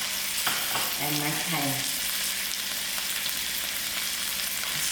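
Ginger, garlic, green chilies, curry leaves and thyme frying and being stirred in hot oil, with a loud, steady sizzle throughout and a voice speaking briefly over it near the start.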